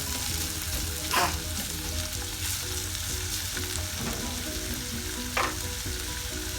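Tomato sautés in a pan for a tuna fish curry, giving a steady crackling sizzle up close, broken by a couple of brief scraping stirs.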